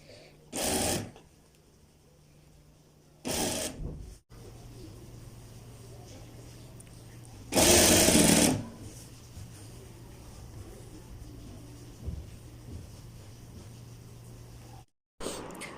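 A sewing machine stitches a kid's kurta in short bursts, with one longer run in the middle, separated by quiet pauses and a low steady motor hum beneath.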